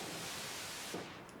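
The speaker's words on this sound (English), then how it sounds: "if I turn off the sub-oscillator and turn off the waveform here, then we just hear noise" Broadband hiss from a Cherry Audio Mercury-4 synthesizer's noise generator with the oscillators switched off, a steady quiet static-like wash that thins slightly near the end, no voices.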